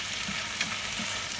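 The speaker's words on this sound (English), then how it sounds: "Continue stir-frying over high heat to ensure the sauce coats the cabbage evenly." Napa cabbage stir-fried in sauce over high heat gives a steady, dense sizzle and hiss, with soft periodic scraping and tossing thuds from the stirring, close and continuous without any voices.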